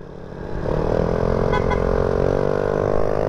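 A motorcycle with a JBT exhaust revs up and holds a loud, steady growl close by, with a rough exhaust rumble that keeps building.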